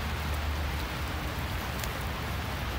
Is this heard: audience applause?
no